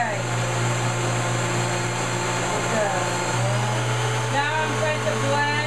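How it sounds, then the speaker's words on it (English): An electric blender purees food for a complementary meal, whirring loudly and steadily up close, with the motor's pitch shifting partway through. "Now I'm going to blend, liquefy, back to puree."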